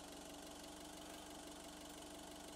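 A looping engine idle sample in an adaptive engine audio demo, a quiet, steady mid-pitched drone with a fine rhythmic chug and no variation across its short length.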